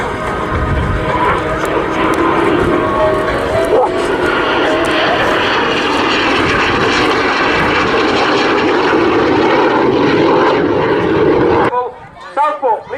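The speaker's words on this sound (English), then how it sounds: "a single but robust, if somewhat noisy, I would say," Loud roar of a jet aircraft with a single Rolls-Royce Viper engine passing close overhead at an airshow, sustained and powerful, with a voice talking over it before the noise drops away abruptly.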